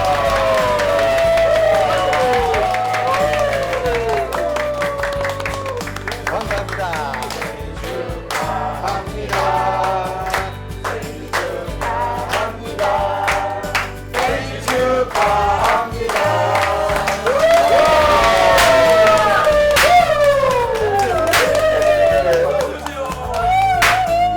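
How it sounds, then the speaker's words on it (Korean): Crowd clapping and cheering at a surprise 77th birthday party for an elderly man, sustained and lively throughout with music and voices mixed in. "77번째 생일 맞이 우리 팔단비 지병 중에 큰 박수 한번 주세요"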